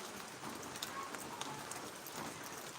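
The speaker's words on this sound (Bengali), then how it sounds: "টিন থেকে পানি পড়তেছে জিরি জিরি বৃষ্টি হইতেছে" Light rain patters and drips from a tin roof, a faint, soft spatter of scattered drops against a quiet background.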